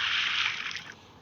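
A character wades into water in Indian Theft Auto Simulator, producing a close, hissing slosh and splash that fades over about a second.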